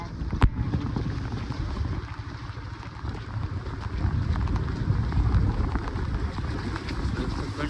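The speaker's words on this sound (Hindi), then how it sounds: "कंटिन्यू बारिश पड़ रही है" Steady heavy rain with low rumbling wind buffeting the microphone during a motorcycle ride, a continuous dense wash of noise and an occasional sharp knock near the start.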